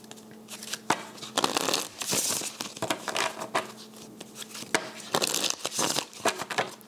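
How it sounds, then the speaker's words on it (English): Tarot cards are shuffled by hand at close range, crisp riffling bursts and soft slaps repeating in irregular rhythm, with light papery rustles between shuffles. "I'm going to shuffle this 3 times."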